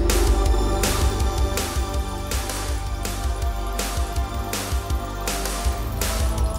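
An early version of a recap theme plays as steady orchestral music with regular, pulsing accents and a sustained low bass, moderately loud throughout.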